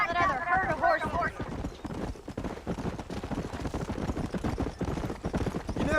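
Horse hooves clip-clop steadily in Red Dead Redemption, a brisk rhythmic trotting that runs throughout, with a brief bird-like call at the start and faint game ambience underneath.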